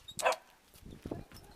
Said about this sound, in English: Come here, little puppy.